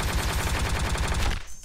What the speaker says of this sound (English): Here's the big one! Proton cannon!